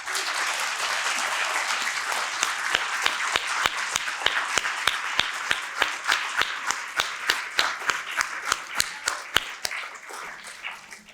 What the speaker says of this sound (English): If you will all please join me in another round of applause for these exceptional mental health